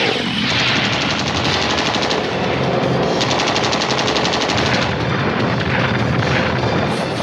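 Rapid machine gun fire from a war action movie trailer, loud sustained bursts with booming impacts and dense battle noise throughout.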